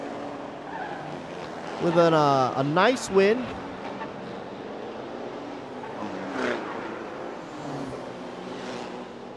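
Toyota Revo pickup trucks racing on a street circuit in Chonburi, Thailand, engines revving sharply with rising whines and a tire squeal burst, then fading, under an excited commentator's talk.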